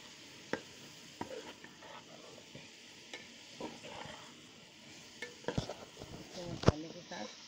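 Masala frying in a pan on low heat, with a quiet sizzle and scattered scrapes and clinks of a spoon stirring against the pan, growing sharper toward the end.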